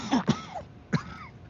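Two quick coughs close together, then a third cough a moment later, near and fairly loud in a quiet room, from a man fighting a lingering cough.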